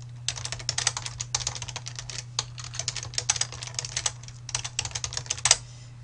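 Rapid bursts of computer keyboard typing while entering a plan name, with irregular clusters of key clicks and short pauses, close and fairly quiet over a steady low hum.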